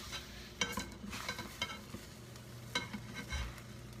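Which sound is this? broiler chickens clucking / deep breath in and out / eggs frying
eggs frying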